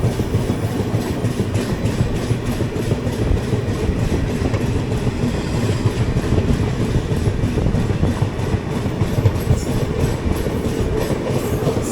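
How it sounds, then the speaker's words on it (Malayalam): A Central Railway express in Southern Railway territory roars past another Central Railway train, a loud, dense rumble with continuous clickety-clack from up close and no voices. "CR train crossing another CR train in Southern Railway Territory."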